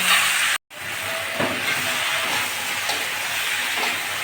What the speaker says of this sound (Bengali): ভেন্ডিটা আর একটু ভালো করে ভেন্ডিগুলো ভেজে নিয়েছি